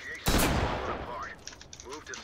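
A loud burst of rapid gunfire rings out in the tactical shooter game Ready or Not during a co-op match, then fades to quieter game sounds with voices talking over them.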